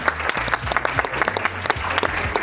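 A small group of people claps enthusiastically at the end of an arithmetic quiz round, brisk overlapping applause that stays lively and close throughout.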